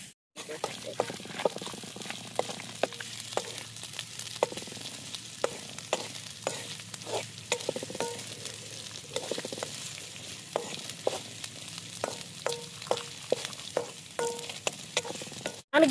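Chicken sizzling in a pan after ginger paste has been fried, with a continuous low frying hiss broken by frequent clinks and scrapes of stirring, close and moderately loud.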